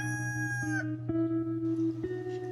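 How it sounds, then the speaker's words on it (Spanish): A rooster crows nearby in a long, loud cock-a-doodle-doo whose pitch rises and falls, and a little clucking or chicken noise follows it. "todos los días, a las 4 de la mañana, canta un gallo, o varios"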